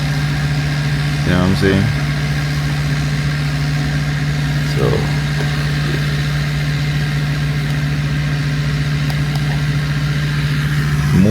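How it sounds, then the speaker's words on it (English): A big truck's engine idles in a narrow parking lot crowded with cars, a steady close low rumble throughout, with someone talking over it in brief bursts. "bring a big truck like that in this parking lot"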